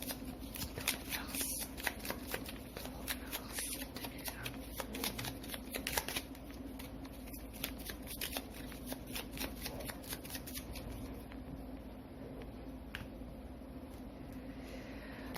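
Tarot cards are shuffled by hand for a reading, a long run of quick, papery riffles and flicks, close and fairly soft over faint background noise, thinning out toward the end, with no talking.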